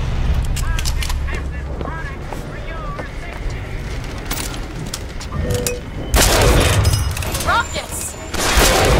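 Rocket blasts and gunfire in a BioShock Infinite battle crack out in scattered bursts over a busy combat din, with louder explosive booms hitting near the end.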